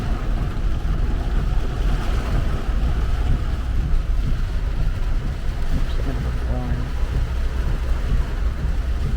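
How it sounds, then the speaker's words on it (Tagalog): Heavy rain with wind pours down in Gapan during a lightning storm, a loud, dense, unbroken roar that fills the whole stretch without letup. "Kaya napakalakas ng ulan dito sa may Gapan."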